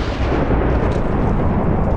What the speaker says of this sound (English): Now that's a lightning cannon.